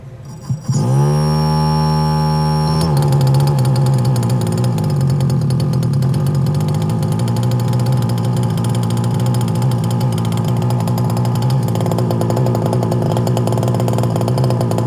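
A light aircraft engine cranks briefly, catches with a rising whine, then settles into a loud, steady droning run that continues to the end.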